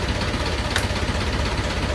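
A boat's engine running steadily, a loud continuous low rumble with an even idling drone and no break across the short stretch.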